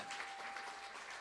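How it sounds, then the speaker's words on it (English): A church congregation claps together, a steady dense wash of applause lasting the whole moment, fairly faint and distant with no voices on top. "Clap it up, everybody. Clap it up."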